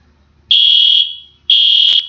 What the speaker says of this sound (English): Is that our fire alarm right now?